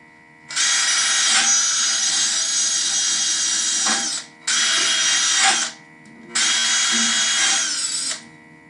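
A power drill whirs loudly in three sustained bursts, the second one shorter, with brief pauses between them.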